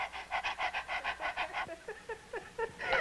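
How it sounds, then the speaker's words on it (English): A woman in labor pants in quick, even rhythmic breaths, close and clear, the pace slowing and turning into softer, uneven gasps toward the end. "I want you to stop pushing down and pant like a dog."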